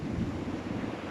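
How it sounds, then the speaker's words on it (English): Big surf breaks and washes at Alum Bay on the Isle of Wight, a dense, rumbling roar of waves with wind buffeting the microphone, steady and close throughout. "It's a big surf."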